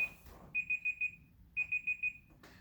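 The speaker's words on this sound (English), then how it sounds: "There goes that timer. Turn it off." A kitchen timer alarm goes off in two bursts, each of four quick, high, shrill beeps with a short pause between them, fairly clear over a quiet room.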